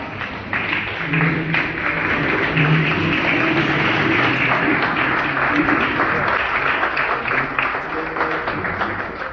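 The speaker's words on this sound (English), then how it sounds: "we want to give this young guy a round of applause" A crowd at a New York City Council campaign event applauds steadily for several seconds, a dense wash of clapping with some voices mixed in.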